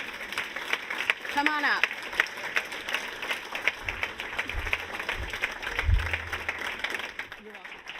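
Audience applause and clapping from a crowd at an evening Black tech ecosystem event, steady and moderately loud across the whole stretch, with a host speaking over it near the start.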